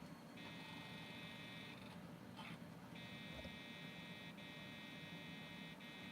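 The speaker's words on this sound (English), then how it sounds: "That's a beep code." A Zenith 486 computer with a Phoenix BIOS sounds an electronic beep code at power-on: faint, steady tones in a spaced pattern of long beeps separated by short gaps, over a constant fan and electrical hum.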